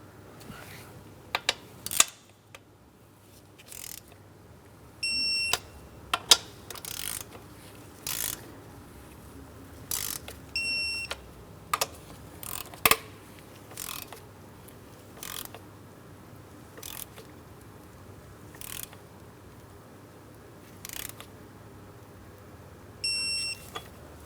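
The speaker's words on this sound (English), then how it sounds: "Let's go ahead and torque them in that same crisscross manner." A torque wrench tightens spark plugs in crisscross order on a 2003-2007 Cadillac CTS 3.6L V6, with repeated sharp ratcheting clicks in short bursts separated by quiet gaps, close and alone without talk.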